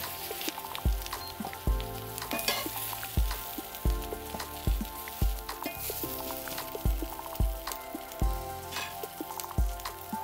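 Vegetable scraps fry in oil in a cast iron pan being seasoned, a steady close sizzle with repeated low thuds and clatters of stirring throughout.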